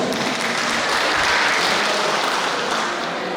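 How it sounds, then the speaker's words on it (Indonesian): Dense, steady applause from a large crowd at an outdoor political rally for Ganjar in Jogja, a continuous wash of clapping filling the whole moment with no speech over it. "Tepuk tangan untuk kita semua."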